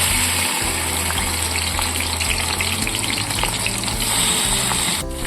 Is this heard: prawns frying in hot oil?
yes